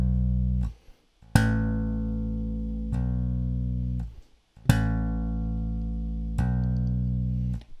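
An electric bass guitar plays legato note pairs on one string, each plucked note ringing out before being slurred to the next, with short gaps between the phrases.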